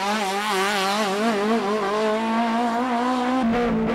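Toyota AE86 race car on a hot lap at Tsukuba, its engine note rising and falling in a steady, close, high-revving wail through gear changes, with a brief lift near the end and no voices.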